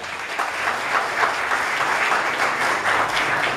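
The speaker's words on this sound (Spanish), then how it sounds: "Un aplauso a su memoria." A crowd applauds in memory of deceased colleagues at a new building's dedication, dense sustained clapping filling the room evenly throughout.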